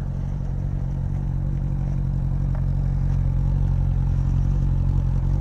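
A Yamaha MT-07 motorcycle engine revs close by with a steady, loud low rumble that builds slightly, no voices over it.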